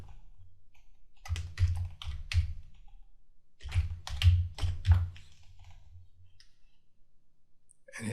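A workspace name is typed on a computer keyboard in two short bursts of quick, close key clicks separated by a pause, with a single click at the end.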